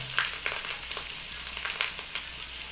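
Chicken frying with chili, turmeric and coriander powder, stirred lightly in the pan; a soft, moderate sizzle with a few clicks and scrapes of stirring, no voices.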